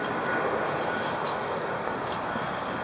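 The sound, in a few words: airplane flying overhead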